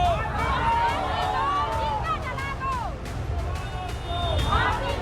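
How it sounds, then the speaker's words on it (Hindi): Angry crowd surrounding a police station in Durg in uproar, a dense roar of many shouting voices with overlapping yells rising and falling throughout. "आक्रोशित भीड़ ने थाने का घेराव कर जमकर हंगामा किया"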